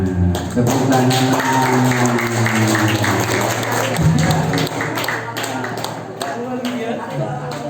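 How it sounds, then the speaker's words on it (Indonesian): A crowd claps steadily for several seconds at a child's fifth birthday celebration at a foundation in Talun, Cirebon, then the applause thins out. Voices mingle with the clapping. "Tepuk tangan."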